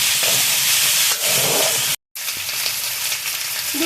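Loud, dense sizzling and hissing of elephant foot yam pieces frying in hot oil, steady and close, broken by a brief silent gap before the frying resumes with stirring.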